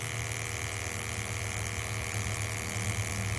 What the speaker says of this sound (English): You can see we just got water pouring out of this.